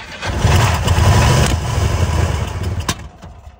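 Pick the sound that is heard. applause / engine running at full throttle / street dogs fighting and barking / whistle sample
engine running at full throttle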